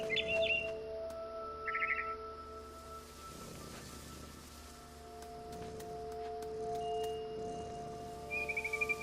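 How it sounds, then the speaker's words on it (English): Small bird in What Remains of Edith Finch gives short, bright chirping bursts, a few quick trills spaced apart over a soft, steady ambient hum, fairly close and clear with no voices. "I tried to be quiet, but the bird was really scared."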